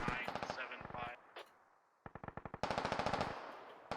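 Rapid automatic gunfire in the video game Operation: Arrowhead, with dense bursts of shots broken by a short pause, then long sustained volleys, loud and close.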